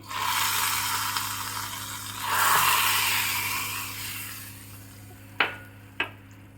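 Hot tempering of oil with dried red chilli and asafoetida is poured into tambuli, bringing a soft, rising sizzle that fades away, then two sharp metal clinks of a spoon or pan, with no talking.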